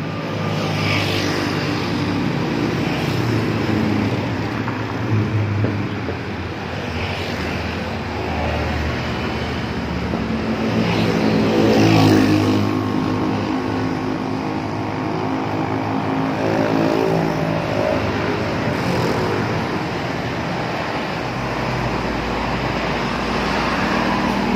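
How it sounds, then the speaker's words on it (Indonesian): Primajasa and Budiman buses pass at night on the road at Nagreg, giving a droning engine roar that swells to a peak near the middle and then fades, with steady traffic rumble underneath. "Oh, ada dua bis."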